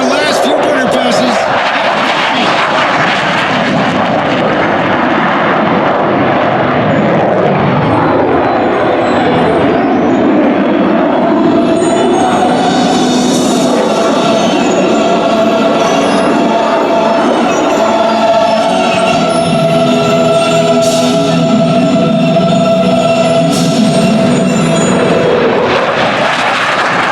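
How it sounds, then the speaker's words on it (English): An F-15 Eagle fighter jet roars through afterburner passes at an airshow, a loud continuous rumbling roar that swells and shifts over half a minute while a public-address announcer talks over it. "setting up for their last few burner passes"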